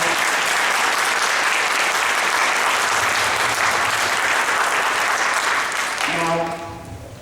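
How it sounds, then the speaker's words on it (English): Wedding guests give the bride a round of applause during a best man speech, sustained, even clapping from a large room that continues for about six seconds before tapering off as a voice returns. "Would you round of applause for our absolute stunning Alicia?"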